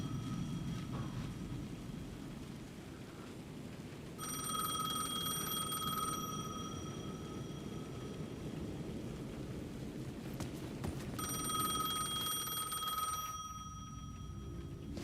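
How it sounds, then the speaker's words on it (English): A payphone in Alan Wake 2 rings in two long bursts of electronic trilling, each several seconds long and separated by a pause, over a low, steady ambient rumble. "The payphone was ringing again."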